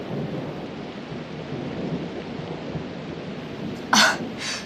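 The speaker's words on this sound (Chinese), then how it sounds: "这么大雷声不怕吗？ 打雷有什么好怕的？" Heavy thunder rolls through a stormy night in a Republic-era setting, a continuous low rumble over steady rain-like hiss, ending in a sharper, louder crack near the end.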